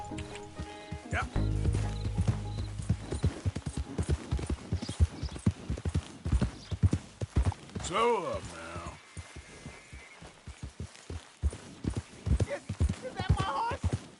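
Horse hooves clip-clop in a video game, a steady, rhythmic run of close hoofbeats with a brief whinny-like sound midway, while a voice speaks over them.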